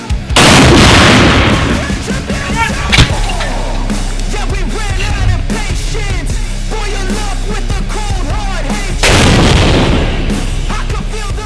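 Artillery fires at an enemy mortar section in a combat zone, heavy booming blasts at the start and again near the end, with shouting and background commotion between the loud reports.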